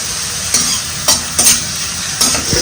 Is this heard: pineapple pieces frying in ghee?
yes